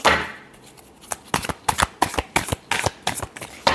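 Tarot cards being shuffled by hand give a rapid string of sharp riffling bursts, close and crisp, in a quick irregular rhythm with short gaps between them.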